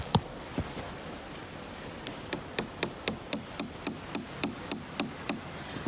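A hammer taps a spile into a maple tree: two sharp knocks, a short pause, then a steady run of about fourteen evenly spaced, ringing metallic taps, close and clear with no voices.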